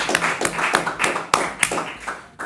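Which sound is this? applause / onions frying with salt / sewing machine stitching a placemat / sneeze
applause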